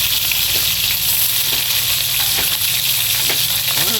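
Fish frying in hot oil for Filipino tinola from Lake Mainit, Surigao, giving a loud, continuous sizzle with faint bubbling pops and occasional stirring.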